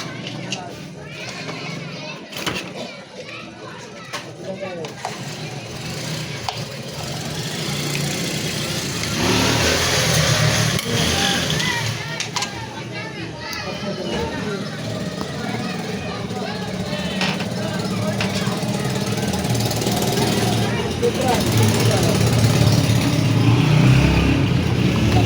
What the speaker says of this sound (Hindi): अब ये शाम का टाइम है, फिर भी ट्रैफिक कितनी है।